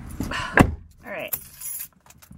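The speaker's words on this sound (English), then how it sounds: "Got the keys." A bunch of keys jangles close by in short metallic bursts, with a car-like thump and rustle around them and a voice briefly present.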